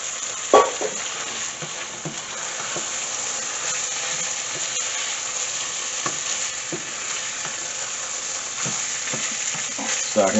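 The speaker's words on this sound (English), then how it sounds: "the rice is coated with all the seasonings that are frying up in there" Rice sizzles steadily with seasonings in a hot pan while a utensil scrapes and stirs it in occasional clicks and scuffs, with no talking.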